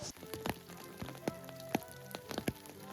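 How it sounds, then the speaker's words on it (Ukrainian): Heavy rain pours steadily in a Czech rock town, a dense hiss of drops striking surfaces, with sharper individual splats and drips standing out irregularly, and no voices. "Сьогодні цілий день леє дощ просто як з відра."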